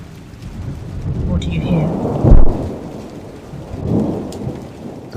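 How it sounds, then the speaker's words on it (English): Heavy rain pouring steadily with a low thunder rumble and a sharp crack midway, close and enveloping, with a brief spoken question over the storm. "with the sound of a heavy rain"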